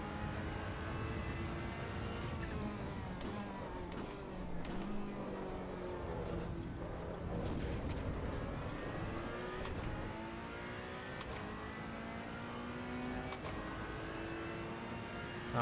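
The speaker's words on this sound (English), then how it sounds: "Yeah, the turbos still sound good." A turbocharged race car engine in the Assetto Corsa Evo racing game revs up and down through gear changes, with rising and falling engine tones and sharp turbo whooshes, fairly quiet and steady throughout.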